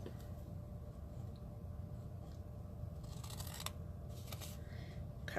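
Scissors cutting along a line on a small Valentine's treat bag, a couple of brief crisp snips close by against a quiet hum.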